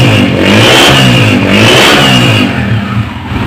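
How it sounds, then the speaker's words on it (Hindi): Honda CG 125 motorcycle engine running after an air-filter fix, revving up loudly then easing back toward idle, close and alone, with a buzzy rising and falling tone. "जी दोस्तों, ये बाइक स्टार्ट कर दी है।"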